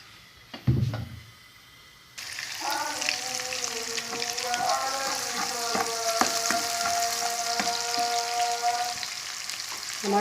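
Oil sizzles steadily in a pan for a Pakistani-style tinda masala, starting after a brief knock and low rumble. A chanted, wavering call to prayer carries faintly from a distance.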